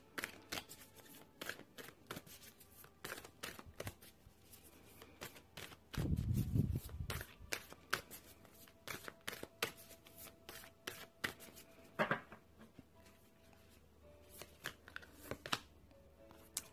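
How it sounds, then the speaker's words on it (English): Thick oracle cards are shuffled by hand, giving quiet, rapid riffling clicks and flutters. A louder rustling burst comes midway, then more scattered taps and slides as the cards keep moving. "These cards are really thick and they're very hard to shuffle on."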